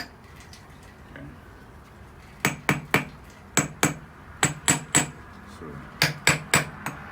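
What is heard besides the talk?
hammer tapping metal bolts into alignment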